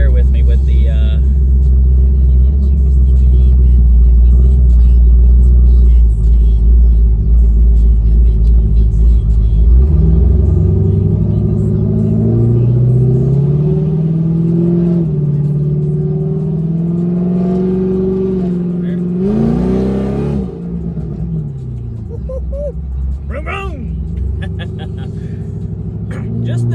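A G8 car engine revs up and holds a loud, rising roar, with throttle blips and a sharp burst near the end, all close by and without talk.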